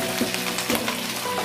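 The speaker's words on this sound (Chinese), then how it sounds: "煎了一两分钟以后，再反个面煎一下" Pieces of yellow croaker pan-fry in oil, giving a brief steady sizzle with light crackling pops, close and unbroken by speech.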